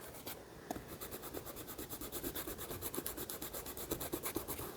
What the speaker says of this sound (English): I'm just holding my page down so it doesn't fold in as I erase